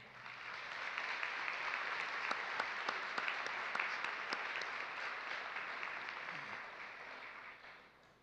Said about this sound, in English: please join me in a round of applause for the honored guests